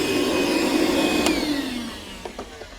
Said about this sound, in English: now that the holes are vacuumed out, they're ready to go